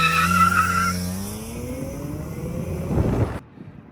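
A BMW E46 M3 in Laguna Seca Blue launches hard under launch control, its engine note rising through a gear while tires squeal loudly and steadily, ending in a burst of noise before cutting off.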